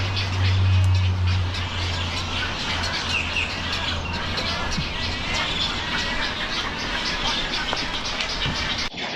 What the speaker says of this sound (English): See these birds, Megan?